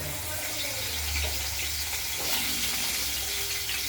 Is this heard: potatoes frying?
yes